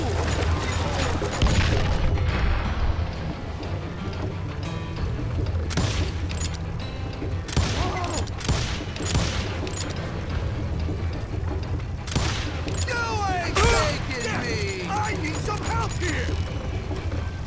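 Gunshots and game action from the Western shooter Call of Juarez: Gunslinger, a dense loud mix of sharp repeated bangs over constant mechanical clatter and music, with voices shouting over it.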